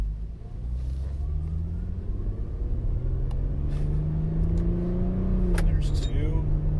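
An Infiniti G37 with paddle shifters on a test drive, its engine rumbling and rising in pitch as it accelerates, then dropping as it shifts, close inside the cabin. A person talks over the engine.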